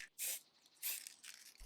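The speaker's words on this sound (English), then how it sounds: "I attached them to a piece of plywood and sprayed them with a brassy gold paint" Short hissing bursts of aerosol spray paint coating drawer hardware mounted on plywood in brassy gold, three close sprays separated by brief pauses, quiet and crisp.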